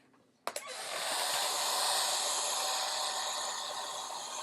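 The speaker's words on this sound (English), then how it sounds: "Let's just take and do a quick dry. I can reach my hair dryer." A click and rattle, then a hair dryer switches on and blows with a loud, steady roaring hiss close by.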